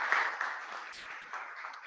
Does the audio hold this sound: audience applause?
yes